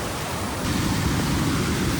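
Steady, loud broadband rush of a waterfall in Mae Hong Son, Thailand, a continuous roar of falling water with no voices, growing slightly fuller partway through.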